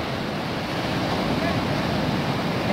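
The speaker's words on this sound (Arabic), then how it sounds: "اليوم ان شاء الله بغيت نصور لكم البحر، لا بلاج ما شاء الله مع الغروب ديال الشمس." Sea waves washing onto a beach after sunset, a steady loud broadband surf roar with wind noise on the microphone, continuous and close throughout.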